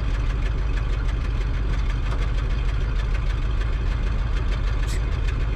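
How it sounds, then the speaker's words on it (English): A truck engine idles steadily and loudly up close, with a low, continuous rumble and a faint rhythmic knock that never changes over several seconds. No voices are heard. "start up the truck"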